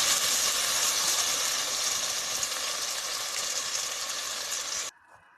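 Masala sizzles and fries in hot oil for a fish curry, a steady loud hissing crackle close by that cuts off abruptly near the end.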